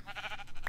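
A single short sheep bleat from the video game Minecraft, a quick nasal cry at moderate level against a faint background.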